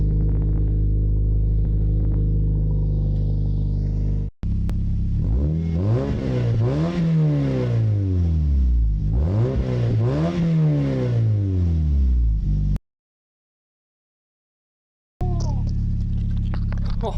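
A track car engine revs hard through a new stainless exhaust, rising and falling in two long sweeping bursts after a steady idle, loud and close, then idling again after a short gap.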